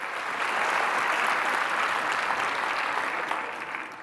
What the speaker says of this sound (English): let's just clap and enjoy SHRM Day